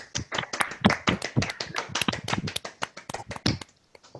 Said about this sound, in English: I hope everyone is going to join on the clapping for the organizers